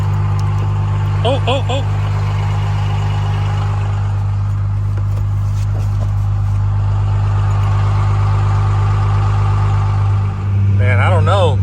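Ford Powerstroke diesel truck engine running on a 93-degree day, a loud steady low idle rumble throughout, with brief shouted exclamations over it and a slight dip and rev near the end.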